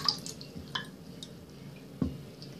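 Soft drips and small plops as scented orbeez water beads are dropped into water, a few separate irregular splashes close up with quiet pauses between.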